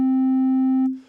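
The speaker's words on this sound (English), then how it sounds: "and here's us distorting that sine wave." A single sustained sine tone pushed through the Roar distortion plugin in Ableton Live 12, steady and loud with stacked bright overtones for under a second before breaking into a short noisy tail.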